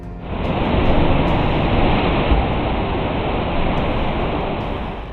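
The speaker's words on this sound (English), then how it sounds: "crashing waves create haunting sounds" Loud, continuous surf roars throughout as waves crash and wash, a dense hissing rush with no pauses and no voices.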